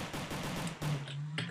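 Rapid gunfire in a video game, a quick string of close, sharp shots in an even rhythm with a brief pause and one last report.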